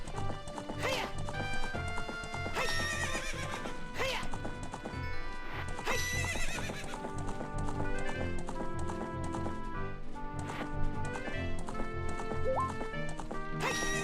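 Epona the horse galloping across the field in the video game Ocarina of Time, a steady rhythmic clip-clop of hooves with an occasional whinny, set against dense, continuous game music at moderate loudness.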